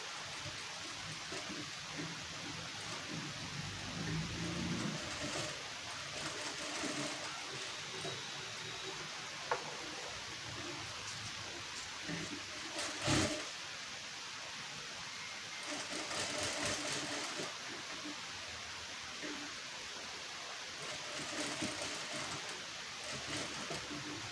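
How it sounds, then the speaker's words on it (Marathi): A sewing machine stitches a blouse with a faint, steady mechanical whirr that swells in several short runs of stitching and briefly drops between them. "अगोदर जिथून आपण मार्किंग केलंय ना तिथून आपण टीप मारून घेऊया आधी आणि नंतर डबल टीप मारूया"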